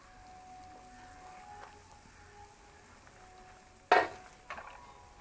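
Spicy beef liver fry with coriander powder stirred in a pan, a faint low sizzle running throughout, then a sharp scrape of the spoon near the end followed by a softer second scrape.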